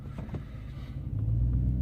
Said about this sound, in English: sorry I had to record this in my truck like this driving